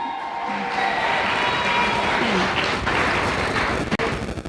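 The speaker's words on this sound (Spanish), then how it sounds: "Un aplauso." A concert crowd at Inti Raymi in Chicago applauds and cheers in a dense, continuous roar of clapping that holds steady for several seconds before trailing off.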